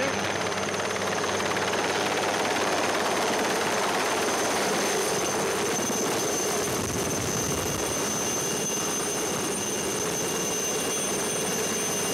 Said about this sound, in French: Vous restez tous là jusqu'au moment où l'hélicoptère il est loin